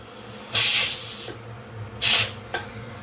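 A pressure cooker being vented by hand, letting off its steam in three hissing bursts: two longer sprays about a second each and a brief final puff, close and loud against a quiet kitchen background.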